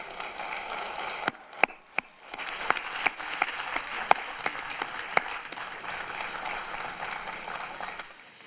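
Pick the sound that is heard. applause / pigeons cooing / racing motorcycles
applause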